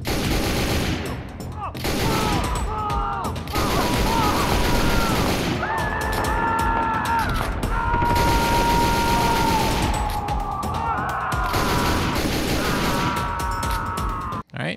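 Gunfire in the video game Sneak Thief: loud, dense bursts of shots and explosive cracks run almost continuously over game music and effects, with a brief quiet gap near the end.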